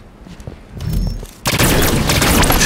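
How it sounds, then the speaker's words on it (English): Beam rifle shots in the Halo 5 Guardians video game, loud close blasts with a sharp boom followed by a dense, sustained burst of gunfire noise. "I'll drop him with a beam rifle."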